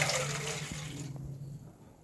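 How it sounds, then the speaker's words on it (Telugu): Water poured into a pot on the stove for boiling before rice flour goes in for soft rice-flour rotis, a steady close splashing stream that cuts off about halfway, leaving a quieter tail. "నేను 2 కప్పులు వాటర్ పోసుకున్నాను."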